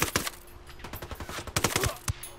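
Rapid gunfire in the Tom Clancy's Ghost Recon Wildlands video game: a string of sharp, fairly loud shots in an uneven rhythm, with several close bursts clustered near the end.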